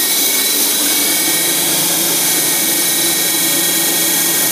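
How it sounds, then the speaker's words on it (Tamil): A compressor runs at a 20 KLD SBR sewage treatment plant, giving a loud, constant mechanical whir and hum that fills the whole stretch without change and without talking. "இதான் டோட்டல் சவுண்டு, கம்ப்ரஸருடைய டோட்டல் சவுண்டு, இதான் பிளான்ட்டோடைய டோட்டல் சவுண்ட்"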